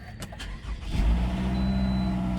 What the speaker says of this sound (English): you're going to experience this with me right now as I start the car